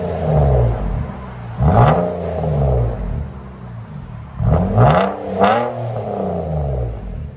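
A 2017 Nissan Maxima with a 3.5L V6 and resonator and muffler delete, fitted with a Vibrant exhaust, revs loud and close. Several rising, falling throttle blips roar and then settle back to a raspy idle.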